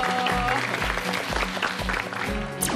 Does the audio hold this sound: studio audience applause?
yes